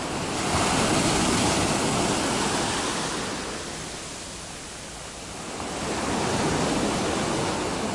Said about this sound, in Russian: Здесь тоже сегодня вот такие небольшие волны.